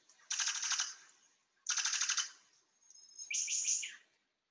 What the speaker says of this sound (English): The brown sicklebill in particular makes this very non-bird-like machine gun sound.